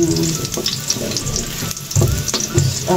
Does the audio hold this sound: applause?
no